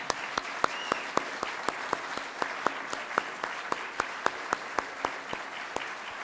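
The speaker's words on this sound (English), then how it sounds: "can we start by giving our very clever graduates a big round of applause?" Sparse applause for graduates at a graduation ceremony, with distinct sharp claps landing at a fairly steady rhythm over a soft background wash, sounding like a small or remote group clapping.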